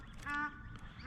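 A single raspy duck quack, fairly faint and close, heard during a kayak outing on duck-hunting water over a steady low rumble.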